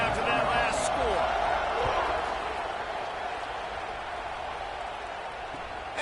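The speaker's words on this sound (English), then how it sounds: "this crowd is buzzing after that last score" Stadium crowd in the College Football 26 video game, Tennessee at Michigan, buzzing steadily after a touchdown, a dense roar that stays loud throughout and eases slightly toward the end, with a commentator talking over it.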